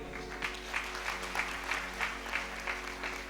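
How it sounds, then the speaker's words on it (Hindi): Audience at a devotional scripture gathering in Vrindavan claps to welcome the speaker, a steady round of applause with regular clap pulses over a constant low hum. "उसी को हम सादर ताली का आवाज से अभिनंदन करेंगे"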